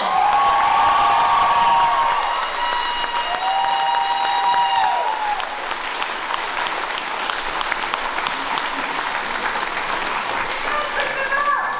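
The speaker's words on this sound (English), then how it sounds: "He said he was going to get the loudest clap and applause" A graduation audience in a hall claps and applauds for the mayor of Island Falls, a dense, sustained wash of clapping with some cheering and whoops that holds loud and steady throughout, with faint voices mixed in.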